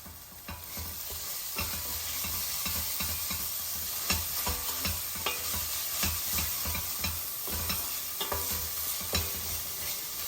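Chicken fries with salt in a pan, a continuous sizzle under repeated scraping strokes of a spatula stirring the pieces, close and steady throughout with no talk.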